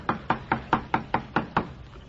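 Eight sharp knocks on a door in an old-time radio drama, evenly spaced and close, loud and alone with no voices.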